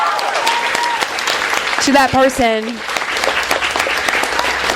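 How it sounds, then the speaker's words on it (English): Audience applause at a live book presentation event, a steady broadband clapping bed running throughout, with a voice speaking briefly over it near the middle. "So let's give it a round of applause"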